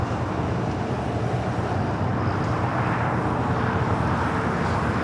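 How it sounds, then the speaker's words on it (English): A Japan Airlines Boeing 787-9 Dreamliner bound for Tokyo Haneda rumbles at LAX with a constant, dense jet roar, loud and unbroken throughout. "the Dreamliner heading to Tokyo Haneda, going to stay here on the south side"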